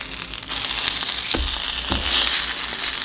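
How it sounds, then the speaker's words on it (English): Vegan French toast with cinnamon fries in a hot pan, a close, continuous crackling sizzle with occasional sharper pops and scrapes, no talking. "So you can hear that it's getting crispy"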